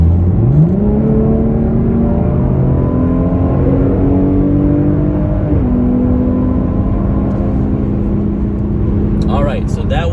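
A tuned Cadillac LF4/LF3 car accelerates hard from a 60 mph roll on the highway. A loud, close engine note climbs steadily in pitch, drops briefly as if shifting gears, then keeps pulling, with a few sharp clicks near the end.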